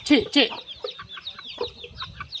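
Chickens cluck and squawk close by as they are fed, with a few loud calls at the start followed by softer, scattered clucks over faint background rustling.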